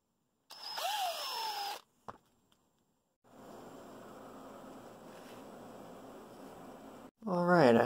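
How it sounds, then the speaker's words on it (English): Small power drill boring a hole through the die-cast metal body of a Hot Wheels '61 Chevy Impala toy car, a steady whirring buzz lasting several seconds after brief high-pitched spins and a pause, close and clear with no talk. "Next, I'm going to drill a third hole in the center here to put a chain through"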